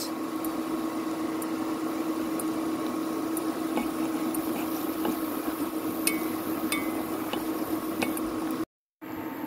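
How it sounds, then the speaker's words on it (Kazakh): Pelmeni dumplings with a little tomato added boil in a pot, giving a faint, steady bubbling simmer with a low hum, uninterrupted and without voices. "Мінекей пельмендеріміз қайнап жатыр."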